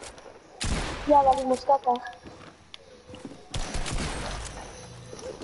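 Shotgun blasts in a video game, one sharp loud report followed a few seconds later by a second, with someone talking excitedly between them.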